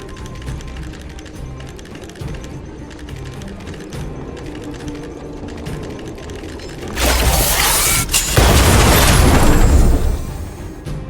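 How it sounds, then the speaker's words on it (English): In the Honkai: Star Rail game, an Automaton Spider detonates among grouped workers. Busy mechanical clicking and whirring comes first, then a loud, sustained burst of blast noise roars in and carries on to the end. "trigger an explosion to disperse the disruptive workers"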